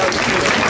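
An outdoor audience at a Children's Day event on a town market square claps loudly in a short, dense burst of applause.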